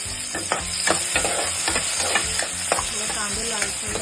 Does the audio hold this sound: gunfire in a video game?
no